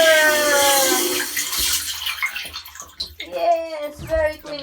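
Water gushes loudly into a tank at first, then fades under excited talk from a child and others, with splashes and gurgles continuing faintly beneath the voices.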